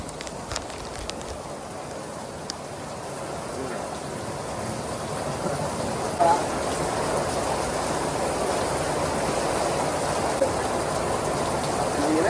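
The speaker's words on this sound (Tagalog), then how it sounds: "Ang lakas ng ulan, grabe." Heavy rain pours steadily for the whole stretch, a dense, even roar of falling water with no pauses.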